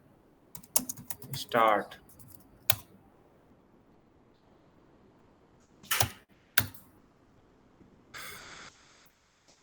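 Typing Java code on a computer keyboard, in scattered bursts of crisp key clicks with short pauses between them, fairly close and moderately loud, while a voice speaks briefly.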